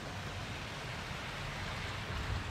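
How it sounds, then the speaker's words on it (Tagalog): Steady rain falls outdoors near a waterfall in Calbayog City, a soft, even hiss of drops with no breaks, faint and continuous, with no voices. "napahinto na tayo ng dahil sa ulan"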